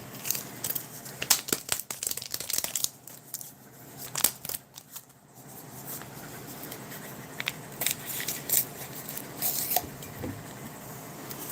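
2012 US MRE ration packet being torn open by hand, a close series of crinkly plastic rips and rustles in irregular bursts, with quiet pauses between, no talk.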